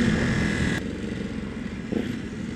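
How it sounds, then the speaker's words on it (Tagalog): A Yamaha XSR900 motorcycle rides along with a steady engine drone and wind rush, dropping from a louder, higher whine to a lower, calmer tone partway through. "Ito talaga yung pinaka-ayokong motor."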